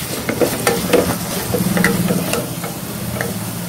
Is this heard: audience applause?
no